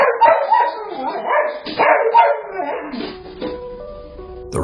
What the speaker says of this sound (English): the family dog just goes nuts.